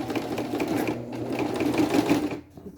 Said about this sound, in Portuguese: E aí a gente vai costurar agora o restante.